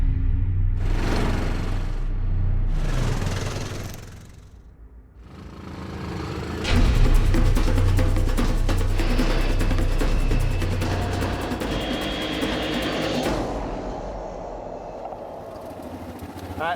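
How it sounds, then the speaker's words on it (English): Quad bikes revving and racing down a runway, a loud sustained engine roar with two short bursts at the start, then a continuous droning rush that builds and holds before easing off near the end. "if we test these quads out and we head further down the runway and have a bit of a race"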